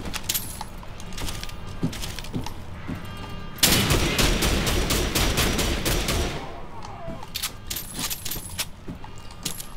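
German automatic rifle fire in Wolfenstein: The Old Blood, loud rapid bursts of shots with a long sustained volley in the middle, mixed with clinking casings and other game sounds.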